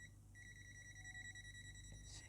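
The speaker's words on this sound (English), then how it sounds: "it gives out a beeping sound." A Themisto TH-M98 multimeter held near a live wire beeps with a steady, high electronic tone, sounding close and clear over a low background hum.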